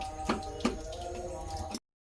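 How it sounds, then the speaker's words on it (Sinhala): Water is poured into a pot of small cut pieces of medicinal herbs ready for boiling, giving a splashing, gurgling stream with a couple of sharper splashes before it stops abruptly. "මේක ඕක පොඩි කෑලි වලට කපලා ඉවිල්ලා තම්බව වතුර දානවා."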